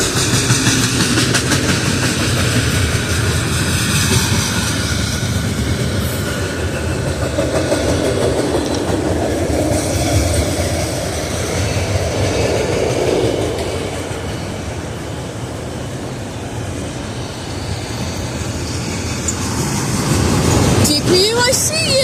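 CN freight train rumbling past with a distributed power locomotive, a loud continuous roar of wagons and clattering wheels that eases mid-pass and then builds again, close by, with voices now and then.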